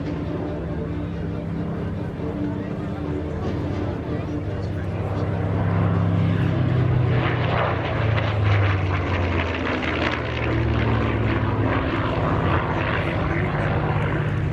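Propeller-driven warbird aircraft flying at the Warbirds Over Wanaka airshow in New Zealand, a continuous engine drone that swells louder midway, with crowd voices in the background.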